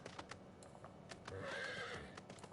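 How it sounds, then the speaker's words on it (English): A horse in the Final Fantasy XIV video game gives a bright, wavering neigh after a few soft hoof clops, with faint keyboard clicks in the background. "Just making sure you can keep up with my horse"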